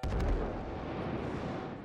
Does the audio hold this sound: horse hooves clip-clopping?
no